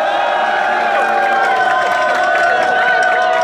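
A crowd at a rap battle roars and cheers, a loud, dense wall of voices with whoops and some clapping, sustained for a few seconds.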